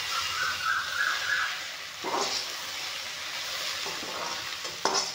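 Okra frying with curry leaves in a pan over low heat gives a continuous crackling sizzle with occasional stirring scrapes and a sharp clink near the end, with no voices.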